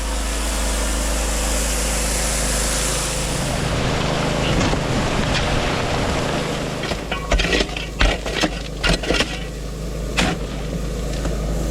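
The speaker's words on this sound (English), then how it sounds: "Now if this wind, you just take a hike, it wouldn't be so bad." Wind blowing by the North Saskatchewan River during gold prospecting at a gravel pit, a steady low rumble across the mic, with scattered clicks and knocks of digging near the end.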